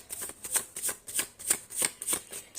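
A deck of tarot cards is shuffled close by, the riffles coming in a steady rhythm of quick papery bursts, roughly three each second, with no voice.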